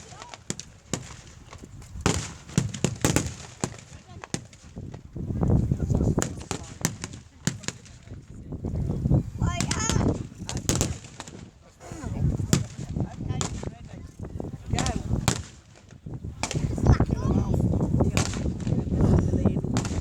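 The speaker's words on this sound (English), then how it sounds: "the German defenders' heavy machine guns, mortars, small arms subject the Americans to sustained fire" Machine guns, mortars and small arms fire in a Tankfest Normandy D-Day battle reenactment, giving sharp irregular cracks and booming bursts at mid distance, some in quick clusters, with voices mixed in.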